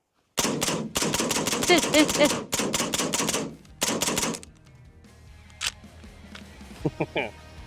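Rapid gunfire strikes a Tesla Cybertruck during a bulletproof test, a long burst of loud, closely spaced shots with short pauses, then a few scattered single impacts as the echoes fade.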